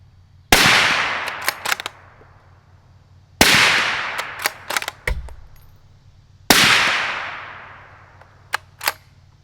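Three suppressed rifle shots fired through a Rex Silentium MG7 suppressor, each a sharp loud crack with a decaying tail, spaced about three seconds apart, with clinks of the action between them and a steady low hum in the background.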